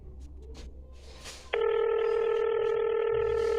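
A mobile phone keypad producing a sustained steady electronic tone that starts abruptly after a few soft taps and holds loud and close to the end.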